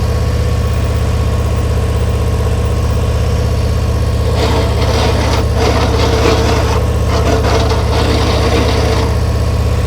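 A motorcycle engine runs at low RPM during slow-speed riding practice, a steady low drone throughout with a louder, rougher burst of engine noise in the second half, no talking.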